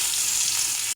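Chopped onions frying in oil, a loud, even, close sizzle that holds steady throughout with no pauses or talking.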